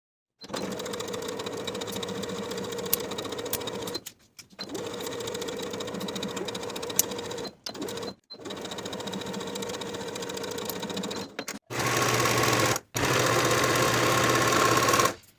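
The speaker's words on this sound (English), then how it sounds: "Sew the crotch curve with a 1/2 inch seam allowance" A sewing machine sews the curved crotch seam of elastic-waist shorts at a half-inch allowance, running loud and steady in several long stretches broken by brief stops.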